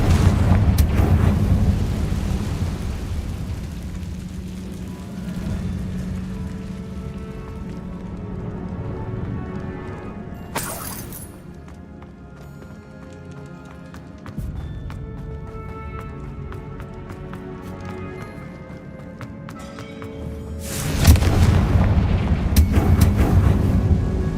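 Fiery Confringo spell blasts in Hogwarts Legacy, deep rumbling booms bursting over a steady low game soundscape, with a sharp blast near the middle and a heavier, louder one toward the end.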